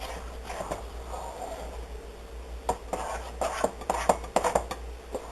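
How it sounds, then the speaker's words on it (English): Muffin dough being stirred in a bowl that is a bit too small, with a near, faint scrape in the first seconds, then a quiet gap, then a run of light clinks and knocks of utensil against the bowl. "Stirring it together."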